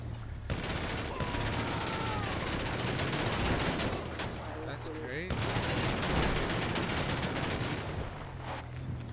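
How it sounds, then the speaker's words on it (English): Dense, continuous gunfire in GTA 5 with automatic bursts and rapid shots, loud and close, nearly unbroken throughout, while players talk over it. "Yo, you're shooting at us."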